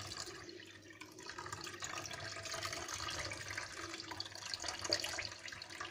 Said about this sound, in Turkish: Uçlarından tutup elmaları ezmeden elimin kuvvetiyle şöyle süzeceğim